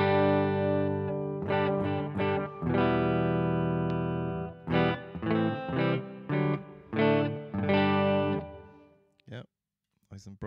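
Electric guitar through a Laney Ironheart IRT Pulse with the bright switch engaged, strummed chords and short stabs ringing out, loud and close, ending with a few muted string noises.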